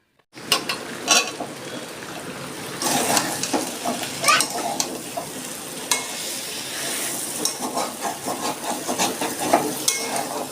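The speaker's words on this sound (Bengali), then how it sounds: "এবার আমি গাজর আলু পেঁপে বরবটি সব একসাথে দিয়ে দিচ্ছি" Carrot, potato, papaya and long beans tipped together into a hot pan for a vegetable mung dal, giving a dense crackling sizzle with clattering stirs and scraping, steady and close throughout.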